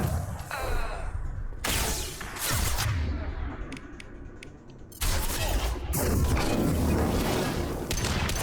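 Rapid gunfire and booming shots from a firefight in the video game Mass Effect 2 Legendary Edition, dense bursts with a quieter lull in the middle before the shooting surges back loud.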